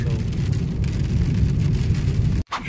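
A sudden hail-like rain shower pelts outdoors in windy weather, a dense continuous rushing patter close and loud, cutting off abruptly near the end.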